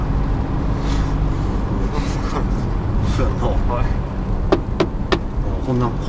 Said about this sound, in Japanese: もうエンジン音うるさくて全然聞こえへんやん。